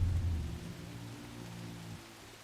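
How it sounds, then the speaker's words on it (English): Rain in the video game Horizon Forbidden West falls as a soft, steady wash under a low rumbling tone that fades after the first half second, with no talk. "Oh, now it's raining and it's dark."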